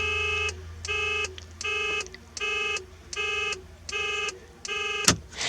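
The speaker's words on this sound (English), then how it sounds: "Hazards work, and there is even a buzzer" Hazard light buzzer in a Sprint Convertible car, a rhythmic electronic beeping repeating about seven times in regular on-off pulses, close and clear, ending with a sharp click.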